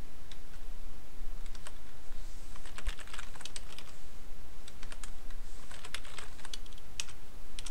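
Rapid typing on a computer keyboard, steady bursts of light key clicks running throughout at close range with no talk over them.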